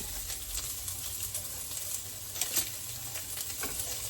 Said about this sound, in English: Gonna get it into a heated pan of oil.